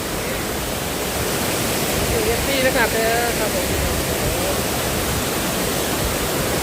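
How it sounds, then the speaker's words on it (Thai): Tad Khu waterfall near Pak Song in Laos gives off a constant, even roar of rushing water throughout. Someone speaks briefly over the steady wash. "น้ำตกตาดคูครับผมพี่น้องครับผม"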